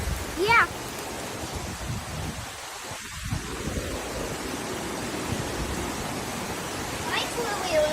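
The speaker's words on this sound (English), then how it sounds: "Whoa, it's raining." Rain pours steadily outside during Hurricane Milton, a dense hiss close by with brief faint sounds at the edges and no clear talk over it.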